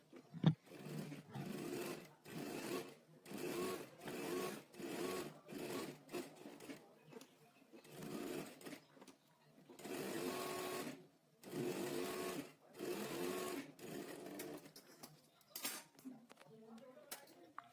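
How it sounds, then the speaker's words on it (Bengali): A sewing machine stitches shirt fabric in repeated bursts of rapid whirring, each running a second or so with short pauses between, close and moderately loud, with a few clicks at the end. "দুশো মার্জিন রেখে সেলাই করতে হবে"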